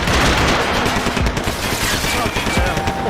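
Rapid gunfire from a firefight in the video game Max Payne 3, dense bursts of shots crackling continuously and loudly throughout, with faint voices underneath.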